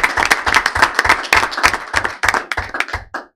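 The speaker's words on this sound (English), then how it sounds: "Give a round of applause to all these donors." A round of applause for school donors at a school board meeting: a group claps in a quick, uneven rhythm of sharp hand claps for about three seconds, fairly close, then stops.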